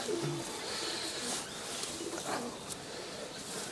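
Domestic pigeons, Giribaj and local birds in a home loft, give soft low cooing phrases at close range against faint background noise.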